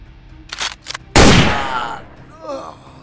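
A single loud gunshot bursts out in the Minecraft Crafting Dead game, a sharp blast with a long decaying tail, preceded by short bursts of sound and followed by a voice reacting.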